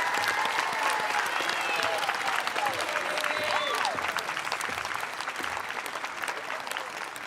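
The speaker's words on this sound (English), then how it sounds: "let's give a huge round of applause to the class of 2021" Applause and cheering from a crowd at an outdoor stadium graduation ceremony for a high school class, broad and sustained with scattered whoops, tapering slightly toward the end.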